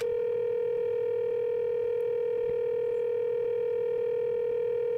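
A phone dial tone from a device in the video game Danganronpa 2: Goodbye Despair, heard as a single steady, unbroken electronic hum at constant loudness that never breaks into separate rings.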